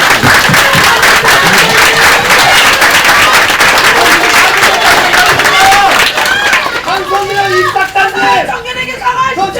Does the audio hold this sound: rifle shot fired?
no